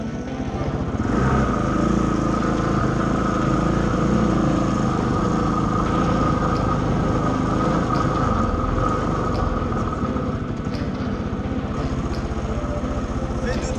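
A KTM 400 EXC enduro motorcycle at a dirt track runs with a steady, loud engine drone up close, holding an even rhythm throughout while a voice talks faintly underneath.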